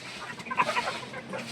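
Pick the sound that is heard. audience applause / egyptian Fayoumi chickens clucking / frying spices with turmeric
egyptian Fayoumi chickens clucking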